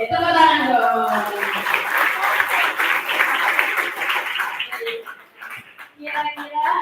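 Audience applause at a school student orientation event, a broad wash of clapping from many hands that swells and fades, with a voice speaking over it near the end.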